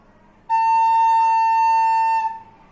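A recorder sounds the note la with two top holes covered and the thumb hole closed, giving one clear, steady tone held for nearly two seconds before fading.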